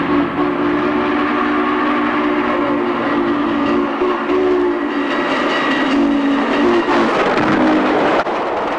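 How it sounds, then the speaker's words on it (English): Steam locomotive 614 thunders past at high speed from very close range, a loud, continuous roar of rolling wheels and rushing carriages with steady tonal whistle or horn bands, ending in an abrupt cut as it clears. "please never stand this close to a train moving that fast"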